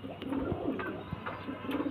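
Pigeons coo in a low, repeated murmur close by, a soft steady rolling call with a few brief sharper sounds, no talking.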